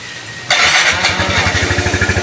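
Kawasaki Z125 motorcycle with an engine that stalls, cranking briefly and then firing up into a loud, close, steadily pulsing idle.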